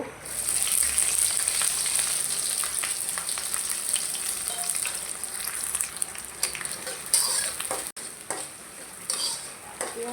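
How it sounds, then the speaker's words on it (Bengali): Onion, chilli and garlic fry in hot oil, a loud, dense, steady sizzle with occasional clicks of a utensil against the pan throughout, and no talking. "তেলটা গরম হয়ে গেছে, এখন দিয়ে দেবো পেঁয়াজ, তারপর মরিচ"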